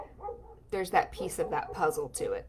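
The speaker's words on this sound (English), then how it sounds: "Sorry about my dogs in the background." Dogs bark and yip in the background while a person keeps talking, the barks fairly close and mixed in under the voice.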